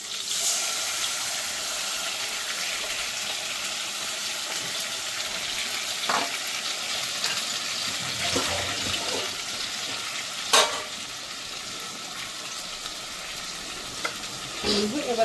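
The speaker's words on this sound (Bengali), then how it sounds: "মূলোটা বেশি ভাজার প্রয়োজন নেই, হালকা একটু মশলা দিলে কষিয়ে যেটা এটার মধ্যে দিয়ে দিয়েছি।" Radish frying in a pan with ginger, green chilli and half a tomato gives a steady, close hiss of sizzling oil, with occasional scrapes and stirring knocks and no voices.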